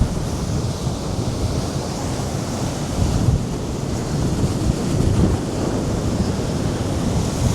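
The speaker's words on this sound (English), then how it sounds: "So here we've got a full deep high tide." Sea waves at full high tide on a windy day on the coast at Cleveleys, a loud, steady roar of surf and wind buffeting the microphone with no talk.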